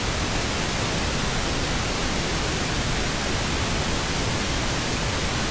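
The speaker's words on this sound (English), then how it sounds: "I could tell by looking at the trace what it would sound like on Pink Noise" Full-band pink noise test signal: a steady, broad, even hiss with no change from start to finish, loud and alone.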